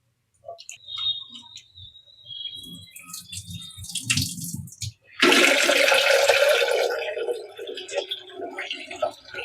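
Mung and toor dal lentils being rinsed in water in a home kitchen, with splashing and swirling water bursts, a sustained louder wash in the middle, and someone speaking over parts of it.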